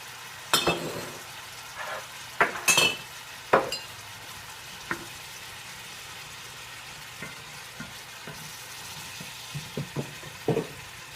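Zucchini and squash sizzle in a pan with a soft steady hiss, broken by sharp clacks and scrapes of a utensil stirring at irregular intervals.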